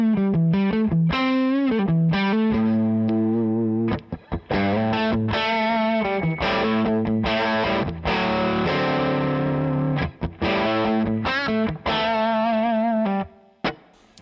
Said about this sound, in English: It's having some dirt on the amp like you're hearing, and if I want just a little more, I'll turn on the odr-c booster